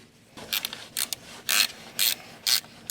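A ratchet tightens the nut on a corroded car battery terminal in six short clicking bursts, evenly spaced about half a second apart, close and crisp against a quiet background.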